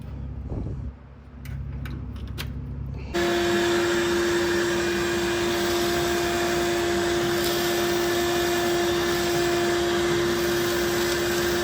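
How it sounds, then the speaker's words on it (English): An electric fan hums steadily in a hot, humid combine workshop during wheat harvest, switching on after a few seconds of quieter shop noise with light clinks, then droning loudly and evenly to the end. "I had to break out the fan."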